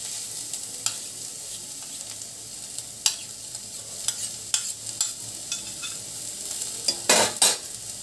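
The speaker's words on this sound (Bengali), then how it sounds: "এভাবে নাড়াচাড়া করে রসুনটাকে ভেজে নেব।" Garlic sizzles in a little oil over a lowered flame while being stirred, giving a soft continuous frying hiss broken by repeated sharp scrapes and taps of the stirring utensil, the loudest cluster near the end.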